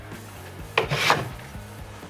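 A wooden French cleat holder slides into place on a shop wall cleat, making one short, close wooden rub and scrape that stops after about a third of a second.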